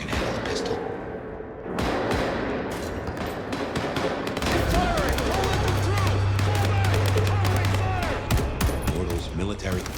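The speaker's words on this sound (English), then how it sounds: "Gunfire? Somehow I don't think those creatures can handle a pistol." Rapid bursts of gunfire in the video game Vampire the Masquerade Bloodlines 2, sharp repeated shots and fusillades echoing loudly over a low droning hum, with a voice speaking over part of it.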